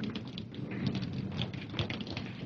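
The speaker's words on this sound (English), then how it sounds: "But it's starting to rain." Rain falling during a gathering storm in a 1951 television drama, a steady broadband patter of drops that holds constant and fairly soft from start to end, with no voices.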